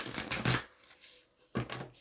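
Tarot cards being shuffled by hand in two short bursts of riffling, papery flutter separated by a brief quiet pause, close and fairly soft.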